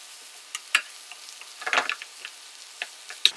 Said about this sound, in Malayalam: ബ്ലാഞ്ച്ഡ് ചോപ്പ് ചെയ്ത് വെച്ചിരിക്കുന്ന സ്പിനാച്ച് ആഡ് ചെയ്ത് കൊടുക്കാവുന്നതാണ്